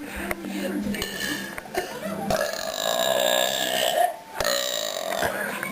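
A long, loud burp rolls out over clinking dishes, with people talking around it.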